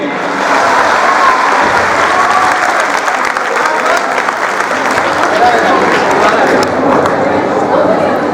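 A crowd at a St Xavier's School farewell party applauds loudly and steadily for the whole stretch, a thick continuous wash of clapping with faint chatter mixed in.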